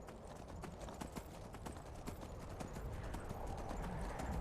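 Horse hooves clip-clop in the Skyrim video game, a quiet, steady rhythm of hoofbeats that continues for several seconds with no other prominent sound.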